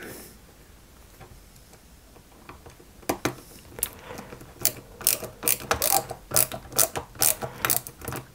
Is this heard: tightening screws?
yes